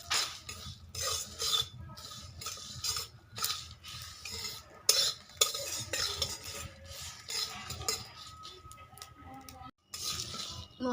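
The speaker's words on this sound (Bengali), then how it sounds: "মশলাগুলো ভাজা হয়ে গেছে," Cumin, coriander and dried red chillies fry in a pan as a spoon stirs them, producing repeated close scraping and clinking strokes in an uneven rhythm, with no talking.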